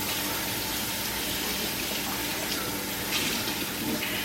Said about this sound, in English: Get my knife washed.